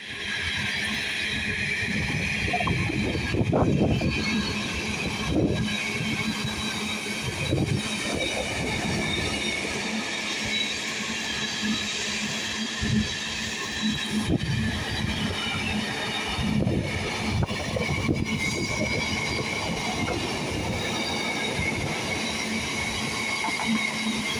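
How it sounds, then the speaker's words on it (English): A GBR Class 66 diesel locomotive, 66781, hauls a freight train bound for Felixstowe through Stowmarket station, producing a long continuous rumble of rolling wagons with clattering wheels and high metallic squeals, steady and fairly close. "66781 on a GBR freight service to Felixstowe"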